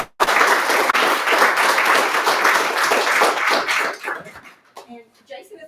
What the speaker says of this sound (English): Round of applause for our speakers.